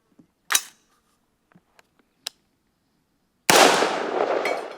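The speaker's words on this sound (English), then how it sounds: "I guess gotta shoot it with the 223 now." A .223 rifle fires through a common household item outdoors, a single loud crack followed by a long rumbling echo, after a few faint clicks and taps in near silence.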